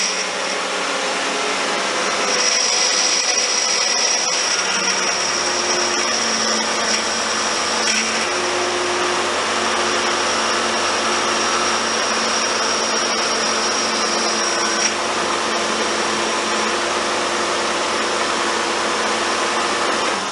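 A 2005 Hyundai Santa Fe 2.7L engine idles steadily while the steering wheel is turned back and forth, the power steering pump adding a high, constant whine over the even mechanical hum, close and alone.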